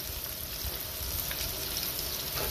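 Food sizzles and crackles steadily in a hot pan, a dense close frying hiss with no voices.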